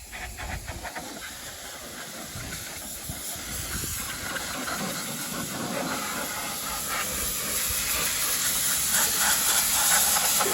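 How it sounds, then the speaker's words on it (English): A pressure washer blasts rust and grime off an old fan from an abandoned tank under restoration, giving a loud, steady, hissing spray that holds on without a break. "blasting all the cancer and grime off the old fan"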